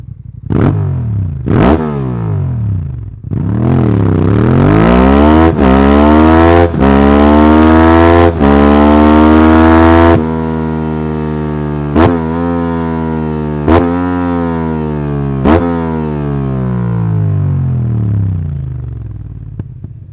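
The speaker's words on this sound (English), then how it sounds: "Let's check out the sound, this complete sound with a complete exhaust from Akrapovic, the slip-on exhaust plus the optional header." Honda Transalp XL750 motorcycle with an Akrapovic slip-on exhaust and optional header, loud and close: a few sharp throttle blips, then a long rev held high and dropping back, with more quick blips while idling.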